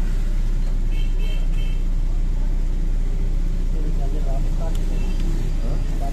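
A repaired blood pressure machine runs with a steady motor hum and broadband whir that holds without stopping, while a person talks over it nearby.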